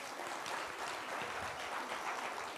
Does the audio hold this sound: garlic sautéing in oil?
no